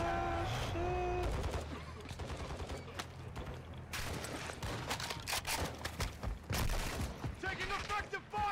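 Rapid bursts of automatic gunfire and heavy shooting from Call of Duty Modern Warfare II's DMZ mode crackle loudly and nearly nonstop, mixed with game voices calling out over the combat.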